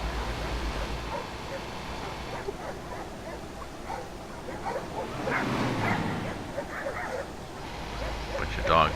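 A bunch of dogs at a farm in Euro Truck Simulator 2 on the Russian Open Spaces map, barking and yipping in scattered bursts at moderate distance over a low engine drone.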